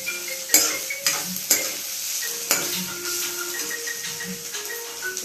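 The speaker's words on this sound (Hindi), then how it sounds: "मैंने प्याज पूरे अच्छी तरीके से भून लिए हैं" Very finely chopped onions frying in oil in a home kitchen pan while making bitter gourd (karela) sabzi, a steady close sizzle broken by several sharp clinks and scrapes of a stirring utensil against the pan.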